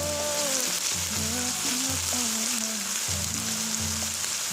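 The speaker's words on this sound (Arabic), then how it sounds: "شوية المعجون اشوحها بالدهن" Tomato paste sizzles and fries in hot fat in a pot for eggplant and bulgur stew, a steady close crackling hiss running throughout with faint tonal sounds layered over it.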